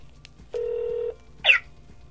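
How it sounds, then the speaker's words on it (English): A single steady telephone ringback tone sounds for about half a second, followed by a short chirp, over a quiet line. "It seems like we're wasting a lot of time just sitting here listening to the phone ring"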